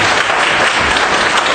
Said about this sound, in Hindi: चलिए नेक्स्ट, एक बार जोरदार ताली बजा दिए।